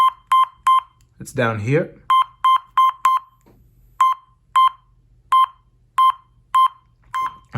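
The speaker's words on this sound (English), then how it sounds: "let us do a set of ringtones here just to test the speaker" Ringtone chimes from the loudspeaker of a Motorola Z6C prototype phone, a series of crisp electronic beeps in short repeating bursts, with a brief spoken remark partway through.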